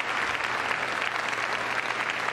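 Dense, sustained applause from a large arena crowd at Crufts 2014 following a heelwork to music freestyle dog routine, steady and even throughout.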